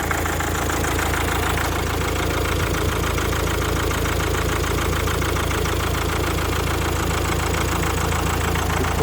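A Mazda 6 with a newly fitted replacement engine idles steadily, a constant close-up mechanical hum and rattle with no change in pace throughout.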